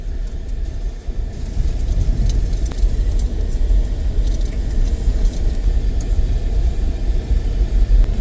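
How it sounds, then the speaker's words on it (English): Road traffic passes a vehicle on a remote stretch where the pavement has just ended, a steady loud low rumble of cars and engines lasting throughout with no pauses. "So much traffic out here now."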